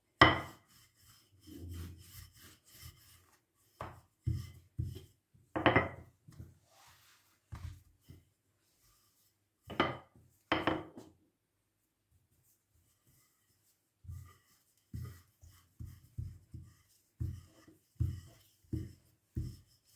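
Rolling pin working pide dough on a wooden surface, soft rhythmic rubbing and rolling strokes in irregular bursts with pauses, close and quiet.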